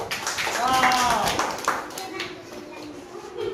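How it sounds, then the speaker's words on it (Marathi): Children clap together in a classroom quiz game, a short burst of applause mixed with chatter and voices talking over it. "खूप छान एक नंबर नाव लिहिलं आतापर्यंत टाळ्या त्यासाठी"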